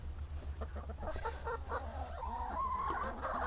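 Chickens in a chicken run cluck and murmur nearby over a low engine-like hum, with a brief bright hiss in the middle.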